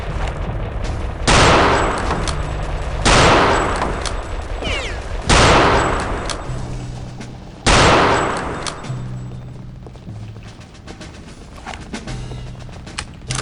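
Gunfire in Return to Castle Wolfenstein: heavy bursts of shots and booming blasts recur every few seconds, loud and close, with crackling rapid fire filling the gaps.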